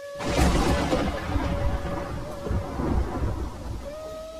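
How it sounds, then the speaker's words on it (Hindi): Deep rolling thunder rumbles through steady heavy rain, swelling and easing in waves, close and loud. "अचानक बिजली चमकी और कुछ ही पलों बाद तेज बारिश शुरू हो गई।"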